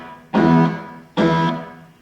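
Two loud sustained electric guitar notes from a guitar rig, each note repeated by a stereo delay to build harmony, the second coming about a second after the first, ringing and slowly fading with no talking.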